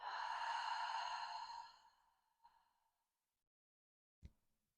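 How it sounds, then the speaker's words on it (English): A long, breathy exhale through the mouth during a back-pain relief breathing sequence. It starts fairly loud and slowly fades, followed by a faint short breath and a brief soft click, heard up close with no talk. "Exhale through the mouth."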